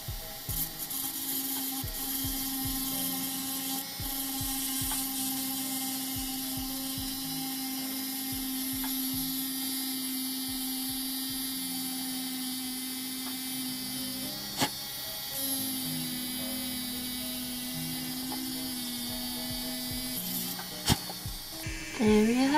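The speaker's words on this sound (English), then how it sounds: "So I'm taking this really pointy drill bit." A very pointed drill bit bores into an acrylic ball while making a nail-art snow globe: a steady, close whirring grind runs through, with a brief break and a few small clicks near the end.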